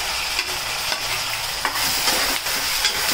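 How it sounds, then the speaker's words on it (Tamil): Onion, green chilli, tomato, curry leaves and coriander sautéing for Tamil-style garlic chicken, a steady loud sizzle with a spoon scraping and stirring the pan every half second or so, no voices. "இப்போ வெங்காயம் தக்காளி நல்லா வணங்குற வரைக்கும் வணக்கிக்கலாம்."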